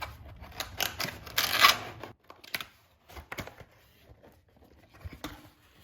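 A wired Lenovo keyboard is unboxed from its packaging, with crinkling plastic and cardboard rustles, then scattered sharp clicks and taps that come close and fairly loud at first and grow sparser.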